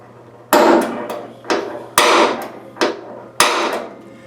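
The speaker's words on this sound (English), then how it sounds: "Punch a hole about in the center here with a little guide" Five sharp metallic hammer strikes on a center punch marking a metal rear bumper of a Triumph Spitfire, at irregular intervals, close and loud, with a steady low hum underneath.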